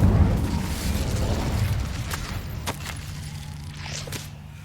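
A fiery blast from the Incendio spell in Hogwarts Legacy, a loud low rumbling burst that fades into crackling and small pops over a few seconds, no talking.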